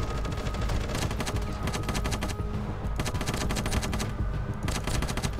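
An LMG fired from the hip in the Ravenfield video game, a continuous rapid stream of automatic gunfire running the whole time, dense and steady with overlapping shots from other weapons.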